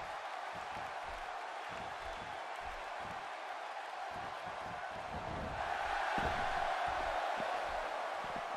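A sold-out arena crowd in the wrestling video game WWE 2K16 gives off a steady, distant roar that rises into louder cheering partway through, with a commentator's voice faintly underneath.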